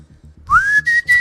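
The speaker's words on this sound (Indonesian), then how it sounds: "Coba siul sekali dah" A person whistles a single rising note that levels into a sustained tone, broken into three short bursts, close and clear.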